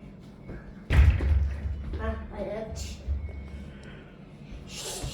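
Two heavy thuds of a football struck with the top of the foot, the first loud and close, followed by someone talking over faint outdoor background noise.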